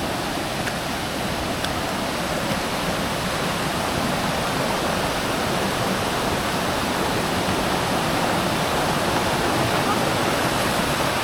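Batlag Falls in Tanay pours in a dense, unbroken roar of falling water, loud and steady throughout, with no pauses or other sounds standing out.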